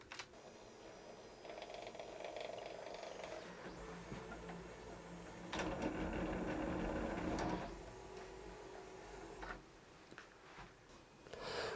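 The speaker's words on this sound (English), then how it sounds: "we do a recalibrate bed location, it literally just dives the print tool as far down as it will go." An old 3D printer from 2016 whirs and clunks as its print head drives down during bed recalibration, with stepper motor tones shifting in steps and a louder mechanical burst midway, close and alone.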